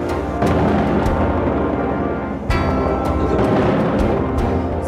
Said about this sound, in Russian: здесь совсем рядом взрывы,